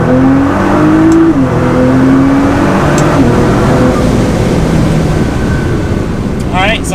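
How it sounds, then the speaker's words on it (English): Nissan GT-R pulling hard in second gear from about 30 mph, the engine loud and close as it climbs in pitch then shifts, with steady wind noise and a voice talking over it. "Do a second gear acceleration."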